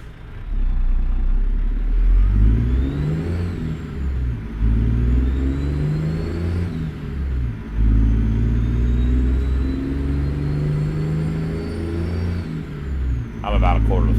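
A Freightliner Argosy truck with a 14-litre Detroit engine in American Truck Simulator rumbles low and steady at light throttle, rising and falling through several gear pulls, while someone talks over it.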